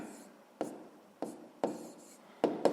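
A math solution for a sixth-grade exercise is written by hand, a pen or chalk scratching in short, separate strokes with brief sharp taps between quieter pauses.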